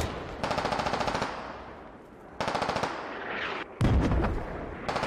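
Automatic rifle fire in the military shooter Squad, several long rapid bursts loud and close with short pauses between them, no talk.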